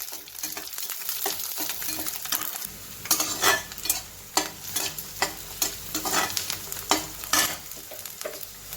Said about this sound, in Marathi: कांदा आपला परतून झालेला आहे याच्यामध्ये थोड्याशा लसणाच्या पाकळ्या घालते